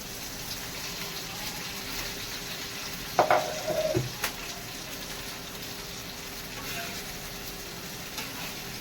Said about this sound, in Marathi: मिरच्या आणि लसूण चांगला परतला आहे त्यानंतर घालूया भेंडी